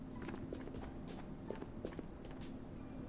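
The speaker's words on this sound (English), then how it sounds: "those sound like bot footsteps" Faint, irregular footsteps of computer-controlled bots in the video game Ghosts of Tabor, soft repeated thuds at a distance with no talking.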